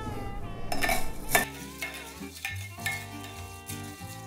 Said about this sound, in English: now we're going to mix it with our handy stirrer